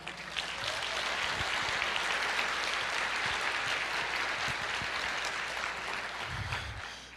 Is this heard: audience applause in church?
yes